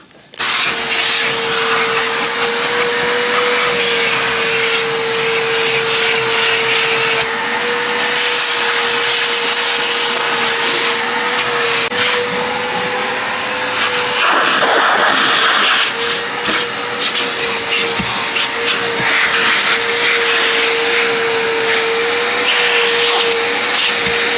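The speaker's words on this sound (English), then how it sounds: "Go ahead and vacuum" A vacuum cleaner runs loud and steady throughout inside a Honda S2000's car interior, with a constant motor whine, pitch shifting slightly as the nozzle moves and sucks.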